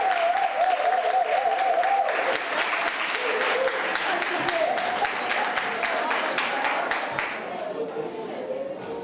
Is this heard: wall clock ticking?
no